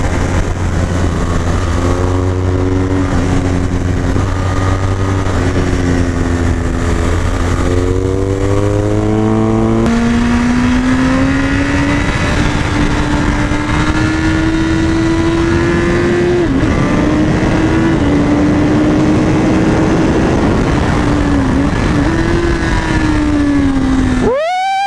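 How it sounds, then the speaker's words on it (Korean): A BMW R1200GS Adventure motorcycle accelerates hard through its gears, the boxer engine rising in pitch, dropping at each shift and climbing again, loud and close with steady wind noise throughout. "오토바이 개 무섭게 나가네 진짜"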